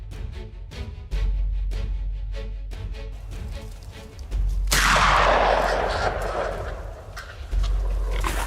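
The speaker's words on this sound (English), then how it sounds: "A large male wild boar, with shiny black fur and sharp tusks, was taken down after an extremely accurate shot." During a wild boar hunt, a loud gunshot booms out midway, with rough animal grunts and squeals heard before and after it outdoors.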